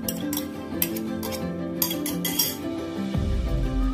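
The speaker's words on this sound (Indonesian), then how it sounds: "kita kena kacau ya. Terus kacau." A utensil scrapes and clinks against a metal pot, stirring coconut milk chicken curry in short repeated strokes, close up, ending with a bubbling simmer.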